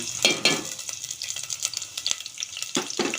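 Chopped onions and green chillies hit hot oil in a pan with a bright, close sizzle, and a spoon clatters against the metal as they are stirred.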